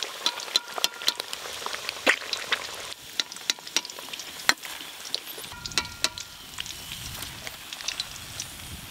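Eggs fry in a pan while chicken biryani is being cooked, giving a quiet, crackling sizzle broken by sharp pops and spits, fairly near and without talk.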